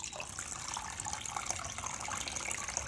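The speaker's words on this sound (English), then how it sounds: "Just let that drip just go past." Whey drips and trickles steadily from cheese curds tied up in muslin cloth during 17th-century-style farmhouse cheesemaking, a faint, continuous watery patter with no voices.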